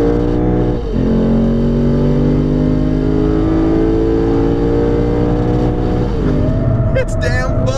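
Lexus RC F sports car accelerating hard on a race track, a loud continuous engine roar with rising harmonics, a gearshift dip near the start and another shift late on, with a voice talking over it.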